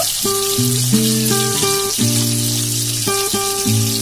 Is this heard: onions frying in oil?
yes